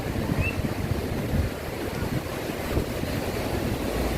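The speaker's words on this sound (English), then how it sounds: "Notice the wind blowing." Strong wind buffets the microphone on a Boracay beach while ocean waves surge and wash ashore, a loud continuous roar of gusts and surf throughout with no talking.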